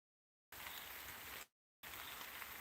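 Steady hiss of rain, continuous and fairly close, broken by a short silent gap before resuming.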